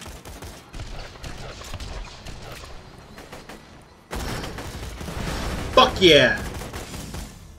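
Gunfire from the Borderlands 2 video game, a stretch of bursts that grows louder and denser in the second half, mixed with game effects and a shouting voice.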